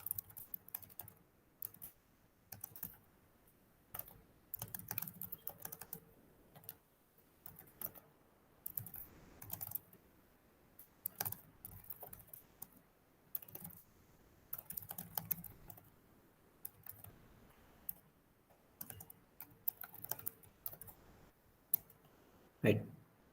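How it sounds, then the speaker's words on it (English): Fingers type on a computer keyboard in irregular bursts of quick clicking keystrokes with short pauses between, while a person talks intermittently over the tapping. "So I'll just type it once again."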